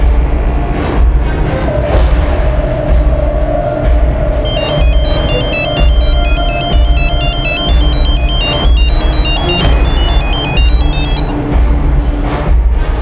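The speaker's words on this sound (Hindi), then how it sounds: "सर, वो लड़का फोन नहीं उठा रहा है।" A mobile phone ringtone plays over and over without being answered, a loud repeating electronic melody over a low rumbling background, with no one speaking.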